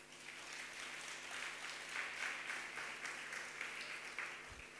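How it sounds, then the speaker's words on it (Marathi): An audience in a church gathering claps together as a steady, even wash of applause that holds at moderate volume throughout, with no speech. "ज्या लोकांना समजतं त्या लोकांनी मोठ्याने टाळ्या वाजवा"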